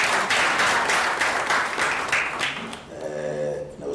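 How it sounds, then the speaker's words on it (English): Audience at an African indie book prize award ceremony applauding a co-host, a full burst of clapping from many people that fades toward the end as a voice begins to speak under it. "A better round of applause for Yvonne."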